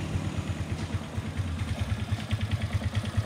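A 2010 Suzuki Skydrive scooter engine idles steadily nearby, a low rhythmic putter with a light mechanical clatter and no talking.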